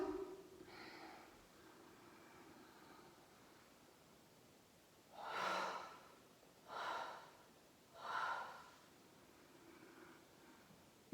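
Three strong, breathy exhalations in a slow, even rhythm during a Pilates-style floor exercise, close to the microphone over a soft hiss, with fainter breaths before them.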